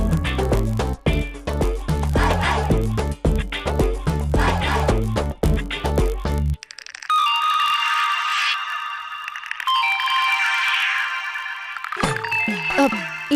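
An incoming call's phone ringtone in a Telugu TV serial scene: a bright electronic melody rings out alone once the background music cuts off, plays for about five seconds, then stops.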